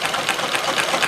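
An electric drill held in a support spins a small model engine to run it in and loosen stiff spots, giving a close, steady, rapid whirring chatter with a pulsing rhythm.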